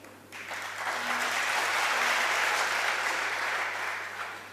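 An audience at a Hindi speech on Sanatan Dharma breaks into loud, dense applause that swells quickly, holds for several seconds and then begins to fade.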